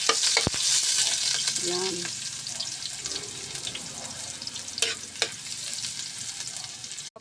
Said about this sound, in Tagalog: mainit na yung ating kawali, kaya nilagay ko na agad yung ating mantika. Susunod ko na ang ating lamas.